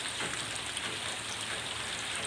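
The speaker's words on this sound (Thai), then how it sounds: "เพื่อนๆบอกว่าอาจจะยินฝนตกอาจจะอยากเห็นฝนนะครับ" Steady rain falls outside a window, a dense, even hiss of drops with no breaks, moderately loud and uninterrupted by voices.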